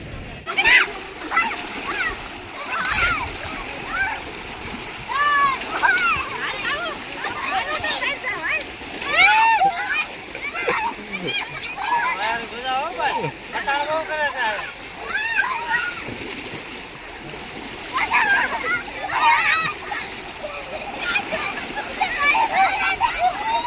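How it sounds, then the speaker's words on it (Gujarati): Children bathe in a small canal with flowing water, splashing repeatedly and irregularly near and farther off while kids shout and chatter and adults talk over the running water. "જો આયા પાણી નાની કેનાલમાં બધા બાળકો નાહી રહ્યા છે"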